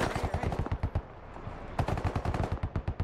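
SquadOps gunfire from a first-person assault run: rapid automatic bursts, loud and close, with a brief pause in the middle before another fast string of shots.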